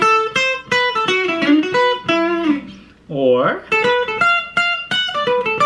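Rockabilly electric guitar licks: quick, close, bright picked notes in short runs, with a sliding bend in the middle and no talking over them.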